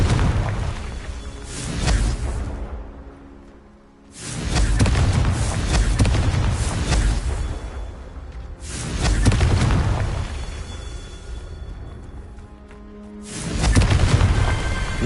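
Fire-spell blasts in the Hogwarts Legacy video game: three loud, booming bursts, each swelling into a long roaring rumble that fades before the next one hits.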